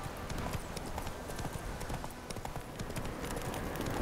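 Steady clip-clop of horse hooves from a galloping mount in The Witcher 3 video game, a continuous dense rhythm of hoofbeats at close range with faint background game sounds.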